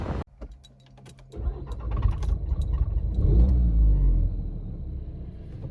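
A VW MK7 GTI cranks and fires after a brief fuel pump whir, its engine swelling into a close rumble that peaks and eases into a quieter idle, with a slight hesitation at startup.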